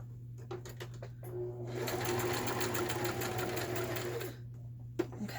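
A sewing machine stitching fabric scraps for a collage, running in one steady, close mechanical whir of rapid needle strokes over a low hum, with soft handling clicks before and after.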